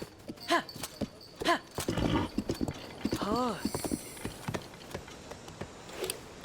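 A horse's hooves clip-clop in the video game Zelda: Tears of the Kingdom, with a few clear, separated hoof beats and short whinnying cries over a quiet game background.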